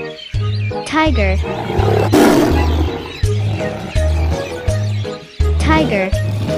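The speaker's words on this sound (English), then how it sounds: "Tiger." A cartoon tiger roars loudly and repeatedly over a bouncy children's music backing, with short voiced roar bursts spread across the clip.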